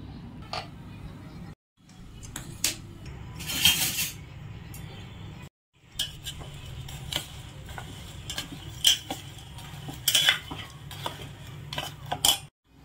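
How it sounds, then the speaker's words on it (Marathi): Semolina roasting in a hot kadhai over low gas, a spoon stirring and scraping against the metal in steady clinks and taps with short pauses, fairly close and without talk. "आता त्यात रवा घालते आणि गॅस कमी करते आणि मग सारखंच आपण हलवत राहू त्याला"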